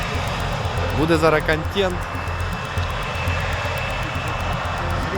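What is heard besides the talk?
whistling aviation engine of the captured 80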